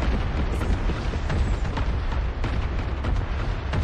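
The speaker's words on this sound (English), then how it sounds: "Watch out! Missiles!" Missile explosions in Fortnite, a dense, continuous wall of booming blasts and rumble that stays loud for the whole stretch with no pauses.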